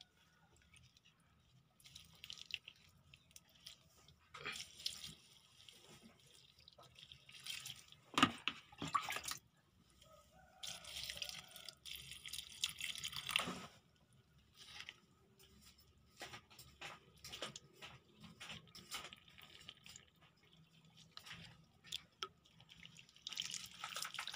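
Water poured and trickling onto potted taro plants, intermittent splashing and dripping in bursts with quiet gaps between, close and fairly soft, no talking.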